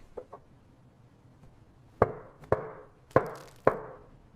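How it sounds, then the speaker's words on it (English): Someone taps a cake pan filled with batter on a surface, giving four distinct hollow knocks at a steady pace after a couple of faint lighter taps, close and clear in a quiet room. "Ben, tap the pan a little."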